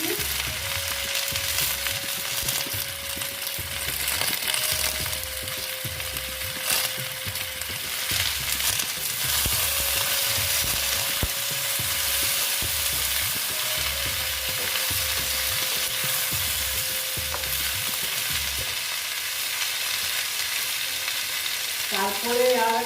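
Mixed vegetables, including fried eggplant and sweet pumpkin with turmeric, sizzle steadily in a pan while a spoon scrapes and stirs in a repeated rhythm, close and continuous.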